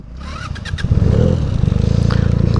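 Benelli 300 motorcycle engine riding off on a muddy trail, a steady loud throbbing that builds after a brief start and keeps pulsing close by, with no talk over it.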